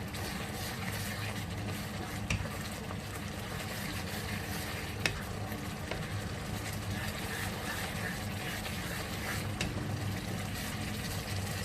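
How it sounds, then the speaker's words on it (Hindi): Spices roasting in a pan for a mutton and vegetable dish make a soft, even sizzle with occasional scraping stirs and one sharp clink, quiet and steady throughout. "अब ये सारे मसाले जो हैं वो मैं इसमें ऐड कर देती हूँ, और इसको अच्छे तरीके से भून लेती हूँ।"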